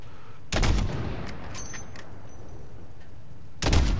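Two loud, sharp bursts of gunfire aimed at car tires in Call of Duty: Modern Warfare, about three seconds apart, with a low steady rumble of game ambience between them and no talking.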